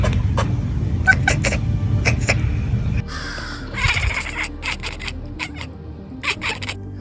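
A margay cat imitates the call of a Brazilian squirrel, giving a run of sharp, harsh, caw-like cries that repeat irregularly over a steady background rumble, close and clear.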